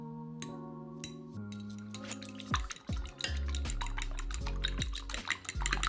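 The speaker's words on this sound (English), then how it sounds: "Okay, now let's beat the eggs." Eggs beaten with two tablespoons of water in a bowl for mozzarella stick coating, a busy run of rapid clinking and whisking against the bowl, close and fairly loud with no talking.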